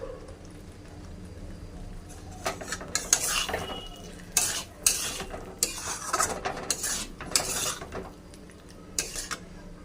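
Chilli paneer and soybean are sautéed with green chillies. After a quiet start, a spoon scrapes and clanks against the pan in irregular bursts over a low sizzle, close and with no talking.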